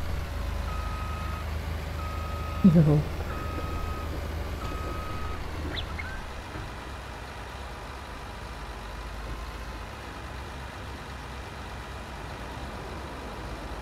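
A truck in Farming Simulator 19 on the Ravenport map idles with a low engine rumble while steady reversing beeps pulse for about five seconds, followed by a brief thump. The engine hum then continues alone, and a voice speaks once briefly.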